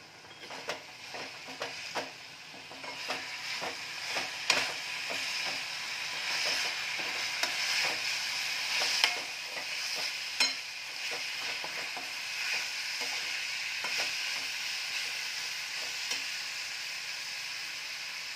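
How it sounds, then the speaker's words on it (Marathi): Dill greens curry being stirred in oil in a pan, with a steady sizzle and frying hiss throughout and frequent soft spatula scrapes and taps, close and moderately loud. "त्यामध्ये थोडंसं तेल घालून भाजी हलवून घ्यायची आहे"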